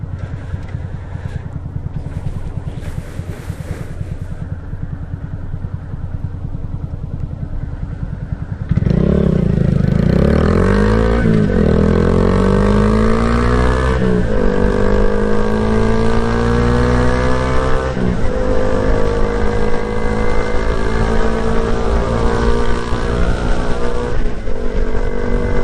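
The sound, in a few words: Honda Grom motorcycle riding on the street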